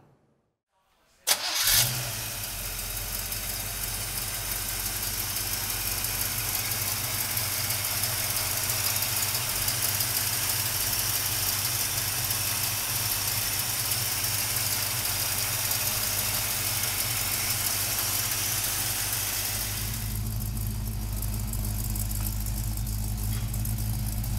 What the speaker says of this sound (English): We're gonna pop the hood, fire up the motor.